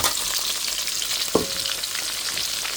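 Onions frying in a wok, an even close-up hiss of hot oil with a single sharp clink of a utensil midway, no voices.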